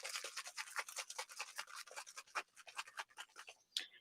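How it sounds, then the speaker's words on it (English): Silver spray paint from an aerosol can misted across a scrapbook page layout in quick close bursts, a series of short hissing puffs with a final sharper spray. "And literally, I just spray it across."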